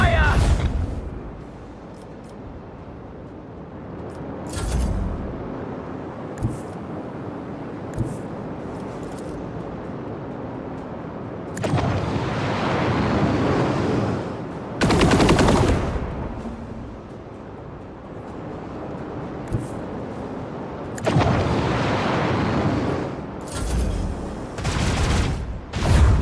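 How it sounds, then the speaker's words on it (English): Macro cannons firing in the Warhammer 40,000 game Rogue Trader, a series of heavy booming volleys and explosive rumbles that come in several loud bursts, with a voice talking between them. "macro cannon!"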